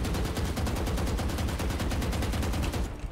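Vandal rifle in Valorant fired in one uncontrolled full-auto spray, a dense, rapid, evenly spaced stream of loud gunshots that carries through the whole burst and cuts off at the end.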